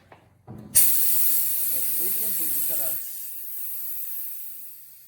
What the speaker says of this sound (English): Now we're gonna put air in it.